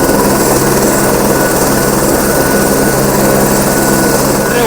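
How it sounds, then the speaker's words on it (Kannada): A helicopter lifting off with passengers at a Ganapati fair in Tiptur, a loud, close, continuous roar of engine and rotor wash with a high whine, strong and steady throughout. "ಹೆಲಿಕಾಪ್ಟರ್ ಯಾವ ಥರ ಹಾರುತ್ತೆ ನೋಡ್ರಿ."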